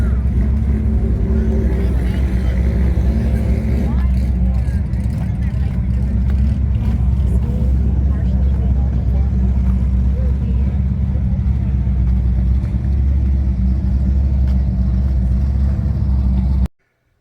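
Drag racing cars in the 6.5 index at the Ohio Valley Turkey Bash make a loud, sustained engine drone with a low rumble, steady for most of the stretch and cutting off abruptly at the end.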